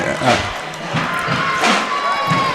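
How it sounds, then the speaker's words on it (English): A big crowd roars and cheers in a packed high school basketball arena during a Northern Maine championship game, with swelling surges of noise, occasional thuds, and a commentator talking over it. "No, this is a big-time crowd."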